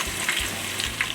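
Green chillies fry in hot oil in a kadhai, giving a steady, close crackling sizzle with small spits and pops throughout, no voices over it.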